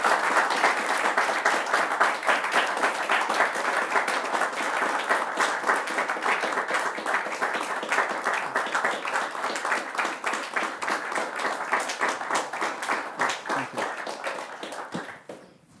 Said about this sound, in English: They clap longer than they clap for anybody.